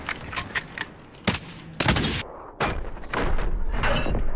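Gunfire in the Warzone battle game comes in several sharp bursts and single cracks, some loud and close, others fainter, with gaps of quieter background between them.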